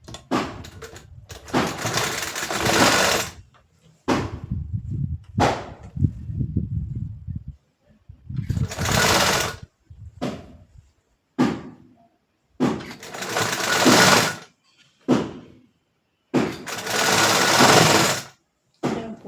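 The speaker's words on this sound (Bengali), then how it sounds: "হাতার সাইডটা আমি সেলাই করব।" A sewing machine stitches down the side of a sleeve in repeated loud bursts of whirring. Each run lasts one to three seconds and is broken by brief pauses.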